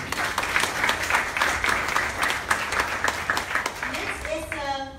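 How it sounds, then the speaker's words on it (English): An audience at a women's leadership conference applauds, a dense, sustained patter of clapping filling the room, with a voice beginning to speak as it fades at the end. "A round of applause for Maya."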